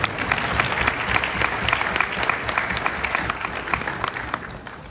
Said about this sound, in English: Ladies and gentlemen, a round of applause once again.